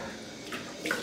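Cold tap water runs softly into a sink at low volume, a steady gentle splash with a couple of faint brighter trickles near the end.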